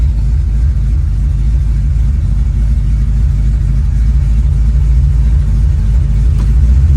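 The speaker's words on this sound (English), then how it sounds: "See, now it idles high." Car engine fitted with Sniper EFI running at a high idle, a loud steady low rumble held evenly throughout with no revving or talk.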